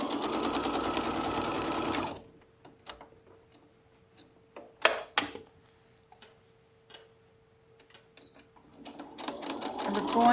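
Sewing machine finishing the last seam joining quilt rows, running steadily at the start and again at the end, with quiet handling clicks and fabric movement in between.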